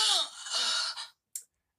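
A Tekken 5 character voice sample plays as a short breathy vocal cry, close and fairly loud, sliding downward before a brief pause and a quick final breath.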